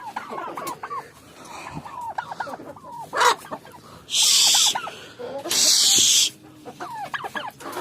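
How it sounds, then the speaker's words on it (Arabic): Hungry chickens in a coop cluck and call over and over at close range, broken by two loud bursts of rushing noise. "طبعا الفراخ هنا جعانه خالص خالص خالص"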